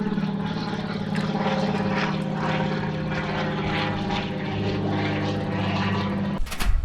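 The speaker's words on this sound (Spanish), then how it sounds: "existe esta opción de ir con una avioneta así." A small single-engine propeller plane droning nearby, a loud steady buzzing engine note that holds for several seconds before ending with an abrupt clatter.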